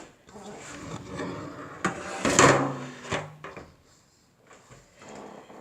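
A pan being pulled from a kitchen cupboard, with wooden drawer or door sliding and thumping, a clattering metallic scrape in the middle, then quieter rummaging.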